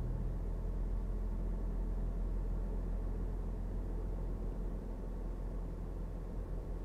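A car pulls out at a steady 50 km/h on a driving test, heard from inside as a continuous low engine and road rumble with no other events.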